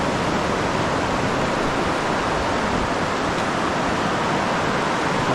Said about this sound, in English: Raining in the side curtain so hard that we got water running across the floor of the greenhouse